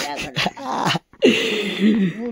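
A dog whimpers with thin, wavering whines close by, interspersed with human talking and a brief pause of silence.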